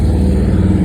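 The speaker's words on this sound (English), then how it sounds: "Sorry about the noise, but obviously I'm next to an extremely busy street." Steady, loud low rumble of engines from an extremely busy street nearby, with a continuous traffic roar and no distinct pauses.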